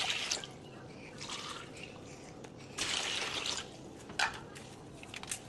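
Water poured into a bowl while preparing rice cake batter in a home kitchen, a soft steady trickle with brief louder splashing bursts, close and quiet, with no talk.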